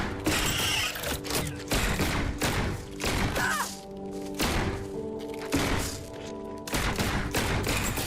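Rapid automatic gunfire from a fast-reloading weapon in a video game, dense loud bursts of shots in repeated volleys with mechanical clacks between them, continuous across the stretch.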